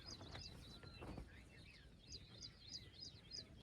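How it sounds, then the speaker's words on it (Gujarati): Birds chirp in a forest at dawn after a rainy night of camping, repeated high calls scattered across the clip over a low rumble, faint and somewhat distant, with a brief burst of voices early on. "તમે સાંભળો આજુબાજુ પક્ષીઓનો જે કલરવ સંભળાય છે"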